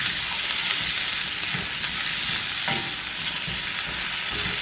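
Potatoes sizzle steadily in olive oil in a skillet while being stirred for a breakfast dish. A dense, constant frying hiss continues throughout, with soft scraping from stirring and no voices.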